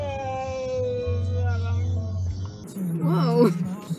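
A cat meows at the end, a short wavering cry following a stretch of sustained tonal sound and a voice, heard fairly close in a household setting.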